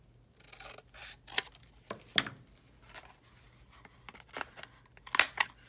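Scissors snip through lace for a craft belly band, giving a string of short, close cutting clicks and rasps with quiet pauses in between and no one talking.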